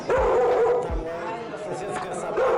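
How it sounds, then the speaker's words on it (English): A dog barks repeatedly from a downstairs neighbors' home in a crowded residential building in Caracas, Venezuela, its yips and bow-wows rising over voices and steady background noise. "The dog barking in the downstairs neighbors"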